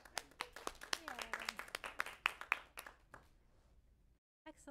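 A small audience at a Girls Who Code graduation ceremony claps for a graduate, sparse individual claps scattered under talking voices, fading out before a brief silence and a voice returning.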